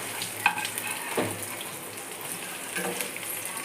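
Bread omelet frying in a pan as it is flipped, a steady close sizzle broken by a few soft clinks and thumps from the turning.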